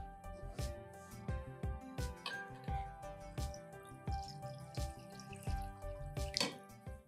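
Water drips and splashes into a pot in a home kitchen as it is readied for cooking barley, a quick run of close, bright droplet plinks with tonal ringing, no voices.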